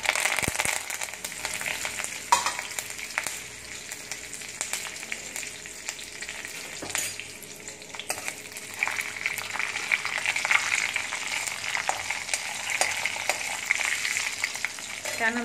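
Curry leaves and a pinch of asafoetida crackling in hot tempering oil in a kadai for a yogurt kadhi, steady sizzle with sharp pops and spoon-stirring scrapes, moderately close, no talking.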